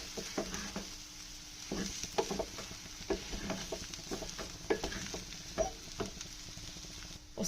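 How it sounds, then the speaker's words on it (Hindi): Boiled, partly mashed potatoes for a vada pav filling are mixed in a pan, with repeated soft scraping and tapping strokes of a spoon over a faint sizzle. "तो ये मैंने इसको अब हम अच्छे से मिक्स करेंगे इसमें।"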